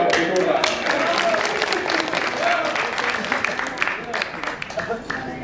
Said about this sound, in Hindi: वाह, ताली बजाओ बेटोला।